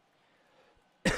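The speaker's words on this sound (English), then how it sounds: "I'm coughing again" A single sharp cough bursts out loudly at the very end, after a stretch of near-silence with faint background hum.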